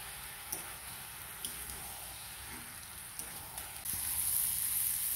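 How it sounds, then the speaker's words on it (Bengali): Raw jackfruit and prawns sauté in a pan, a soft steady crackling sizzle with a few sharp taps of a spatula against the pan, growing slightly louder near the end, no voices. "কিছু ভালো করে মিশিয়ে আবার কষিয়ে নেব কিছুক্ষণ"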